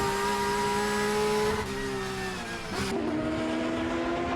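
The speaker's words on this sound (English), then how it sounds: "Marcos Vento in the red number 18 Valvoline Porsche GT3 Cup car." Porsche GT3 Cup race cars at full throttle at Daytona, a loud, continuous high-pitched engine howl with shifting tones as cars pass and change gears.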